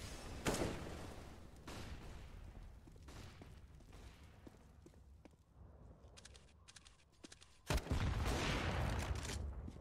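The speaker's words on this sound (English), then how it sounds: "AWP shots ring true as Hiko gets a frag with the XM" Gunfire in a Counter-Strike match on the Nuke map, including AWP sniper rifle shots and XM shotgun fire, heard as sharp, loud reports scattered across a busy game soundscape, with a heavy burst near the end.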